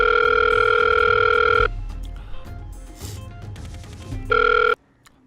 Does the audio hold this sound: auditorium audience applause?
no